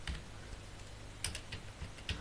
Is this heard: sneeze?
no